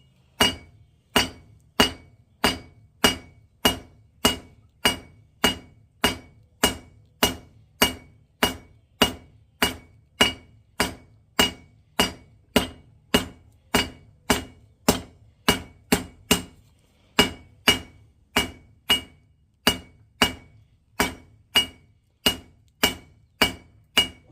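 A hammer strikes hot steel again and again, drawing out and tapering a spike point on an anvil: sharp, ringing, metallic blows in a steady even rhythm, close and loud, with one short pause near the end.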